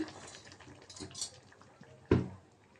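Cooked jute leaves with lentils being served from a pot into a bowl: quiet scraping and soft clinks of a spoon against cookware, ending in one sharp, louder metallic knock near the end.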